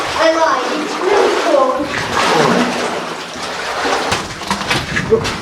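Sloshing and splashing of boots wading through cold water in a mine, close and continuous, with a person talking and exclaiming over it.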